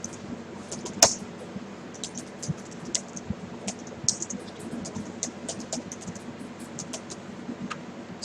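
Quiet, close keyboard typing as a line of code is entered, with irregular bursts of light key clicks and one sharper tap near the start, no talking.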